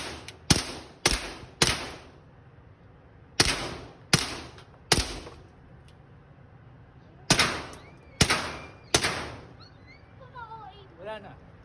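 Gunshots ring out at an outdoor shooting range, eleven loud sharp reports in uneven clusters, each with a short echoing tail, and a few faint voices between them.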